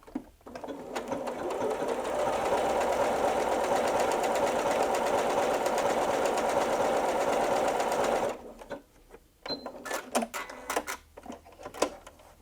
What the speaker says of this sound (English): Let's go ahead and sew some now.